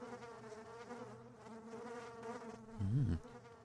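Flies buzz in a video game, a soft sustained insect drone with wavering harmonics, then one nearer, louder buzzing pass near the end as a fly sweeps close; no talking.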